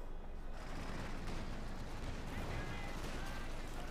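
Anti-tank guns firing on a Panzer IV in a Company of Heroes 2 match: dense, continuous battle noise with booming shots and crackling gunfire running steadily throughout, talk mixed over it.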